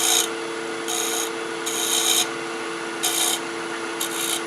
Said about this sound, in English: Just a slight shear scrape.